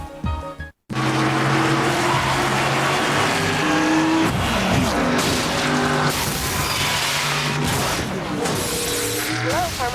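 A car's tires squeal in a skid amid loud engine and road noise, followed by booming impact-like crashes, continuous and close after a brief silent gap.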